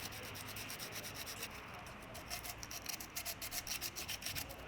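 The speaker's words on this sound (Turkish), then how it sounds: "Zımparamızı yapıyoruz." Rhythmic scratchy rubbing of sandpaper on a Tofaş Şahin 1.6 engine surface, steady strokes that grow more pronounced and choppy toward the end, close up.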